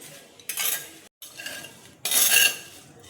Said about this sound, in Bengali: শুকনো কড়াইয়ে দেখো নেড়ে নেব